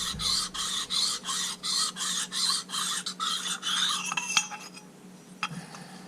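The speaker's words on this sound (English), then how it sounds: "Sharpen the small side of the blade." Repeated rasping file strokes sharpen the small edge of an Eco Shredder ES 1600 V blade, about ten steady back-and-forth passes close up, then a few metallic clinks as the filing stops.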